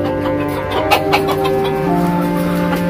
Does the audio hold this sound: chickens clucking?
yes